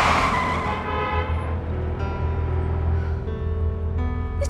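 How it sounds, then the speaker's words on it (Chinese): A car brakes suddenly, tyres skidding with a drawn-out squeal over a low engine rumble, close and fairly loud, fading toward the end. "踩什么刹车啊！"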